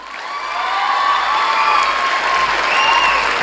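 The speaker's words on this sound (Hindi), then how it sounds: "एक बार जरूर जोरदार ताली होनी चाहिए" A crowd at a live comedy show finale breaks into loud, sustained applause that swells quickly and holds steady, with cheering and shouts mixed into the clapping.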